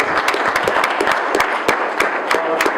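Steady applause from a meeting audience gathered for a community health worker network event at Fort Taber, a dense patter of many hands clapping continuously at moderate loudness, with a few sharper claps standing out.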